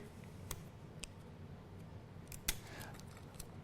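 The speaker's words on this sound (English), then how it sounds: "If you have thick tape like this, I like to cut it in half" Scissors cut a strip of thick tape in half with several sharp, close snips spread across a few seconds in a quiet room.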